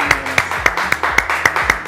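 Audience applause at a university welcome event in San Pedro Sula, heard as a steady run of sharp, regularly spaced claps at moderate loudness with no talk over it.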